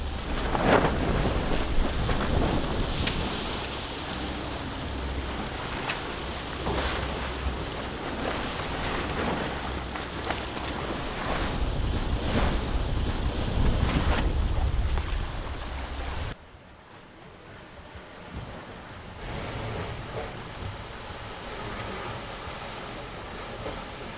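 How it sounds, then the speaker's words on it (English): Steady wind roaring across open water of the Bight, hitting a boat's port beam, with waves and hull noise, loud and continuous, dropping briefly quieter near the end before picking up again. "The wind is coming off of our port side beam."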